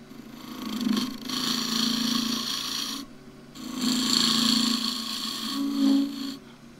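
A wood lathe turns a wooden finial, humming evenly with three long bursts of rough rasping separated by brief quieter gaps, close and fairly loud.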